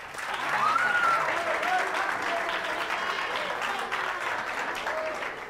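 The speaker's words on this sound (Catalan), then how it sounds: "Vinga, aplaudeu-lo, no?" Studio audience at a Catalan TV word-game show applauding a contestant, sustained clapping that swells quickly and holds steady for several seconds, with a host's voice faintly over it.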